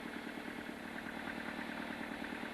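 An engine with a single fuel pump system runs at a steady idle, with a close, even mechanical clatter and vibration and no breaks or speech.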